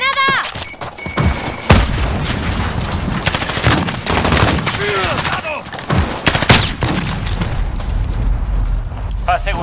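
Grenade blast amid heavy gunfire in Call of Duty Modern Warfare multiplayer Domination, loud booms and rapid bursts of shots throughout, with game radio voices and beeps over the battle.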